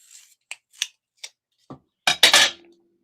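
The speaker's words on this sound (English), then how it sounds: "I'm going to cut it in half." Paper cardstock being cut in half for a Valentine's Day card: a few crisp, isolated snips spaced apart, then a denser crunchy burst of cutting at the end, close and quiet with no talk.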